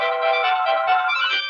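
A phone ringtone plays steadily on its own for under two seconds, a bright, sustained electronic melody of stacked tones at moderate loudness with no talking.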